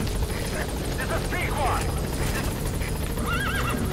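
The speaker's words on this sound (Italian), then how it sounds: "una precisione assoluta, l'elicottero è arrivato adesso." A helicopter's rotor chop and engine drone fill the scene alongside other game effects in Metal Gear Solid V: The Phantom Pain, while a voice talks over it.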